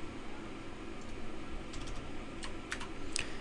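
Keys tapped on a computer keyboard while building a web login form, a few scattered clicks that thicken into short quick bursts toward the end over a steady room hum.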